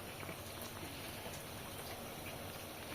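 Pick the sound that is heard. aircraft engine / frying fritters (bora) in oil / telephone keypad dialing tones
frying fritters (bora) in oil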